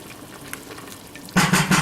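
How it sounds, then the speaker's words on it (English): Celery soup, a keto cream of celery, comes to a boil in a pot, with a quiet steady simmer that swells abruptly into louder, fuller bubbling with rhythmic surges near the end. "it's starting to bubble here in the middle"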